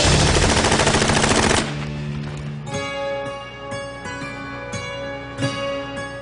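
Combat gunfire: loud, rapid machine-gun bursts fill the first second and a half, then give way to a quieter tonal musical score with occasional soft hits.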